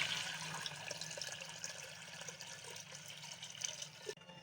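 Water pours in a continuous stream into a cooking pot, a close, splashy gurgle that holds steady and cuts off abruptly near the end.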